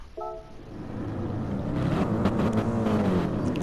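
A Lexus GT3 race car engine in a racing video game, sitting on the grid at Brands Hatch before a rolling start. It is preceded by a short electronic beep, then the revs climb and hold in a loud, steadily rising drone.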